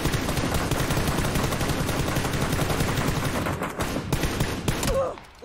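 Rapid, sustained automatic gunfire in a multiplayer shooter video game, aimed at a wooden barrier to break it; loud, dense bursts run almost continuously for five seconds with a faint voice underneath, then cut off.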